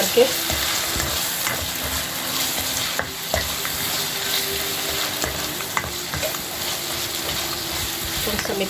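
Garlic, ginger and red chillies fry in a pan with a loud, continuous sizzle, while scraping and clinking from stirring recur throughout.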